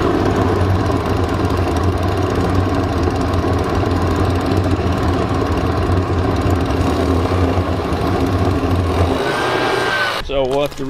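A homemade jet engine built from a leaf blower runs with fuel, making a loud, continuous roaring whine with a steady low drone that cuts out near the end before a short clatter.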